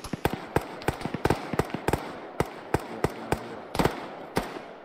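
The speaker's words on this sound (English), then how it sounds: "Shots east. From east." Gunfire crackles in a military video game, a rapid irregular string of sharp, fairly close shots with a few bursts packed together and brief gaps between, with no voices.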